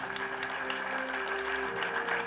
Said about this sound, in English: Can the crowd please applaud and encourage the